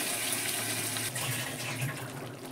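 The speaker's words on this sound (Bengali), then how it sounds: "প্রেসারটা ধুয়ে একটু জল দেব।" Water is poured into a pressure cooker being rinsed after cooking lentils, giving a steady, close splashing gush that lasts a couple of seconds with no talking.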